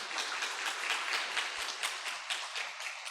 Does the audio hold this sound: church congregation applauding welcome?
yes